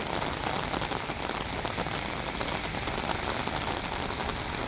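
Steady rain falls in Kuwait, a dense, even hiss of drops hitting surfaces that runs without a break at close range, with no voices over it.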